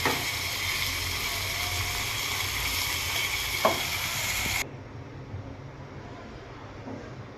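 Asafoetida and chopped chillies tempering in hot oil make a dense, loud sizzle that drops suddenly to a quieter hiss partway through, with a single brief clink.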